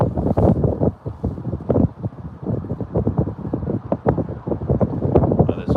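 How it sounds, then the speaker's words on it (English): Strong wind gusting over a microphone on a boat at night while fishing for crappie, a loud continuous rumbling buffet with shifting rustle and no talk. "this wind is crazy"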